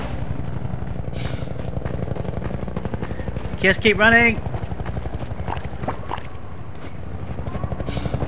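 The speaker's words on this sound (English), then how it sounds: "And there's a helicopter out there" Helicopter from the video game Half-Life 2 drones steadily with a rotor-like pulsing throughout, joined by bursts of gunfire and a brief whining sweep, while someone talks over it.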